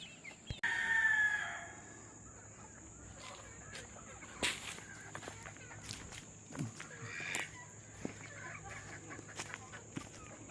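Chickens and gamefowl roosters in a backyard chicken yard crow and cluck, with one crow near the start and scattered clucks, rustles and footsteps afterward, moderately faint.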